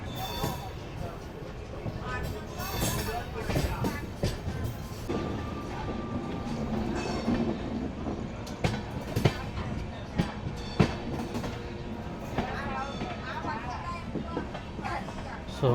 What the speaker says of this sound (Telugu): తెనాలి జంక్షన్ నుంచి గుంటూరు వెళ్ళేటప్పుడు మన ట్రైన్ కరువు తీసుకుంటుంది.